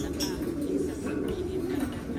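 Domestic pigeons coo softly in a low, continuous murmuring rumble, somewhat faint and steady across the short stretch.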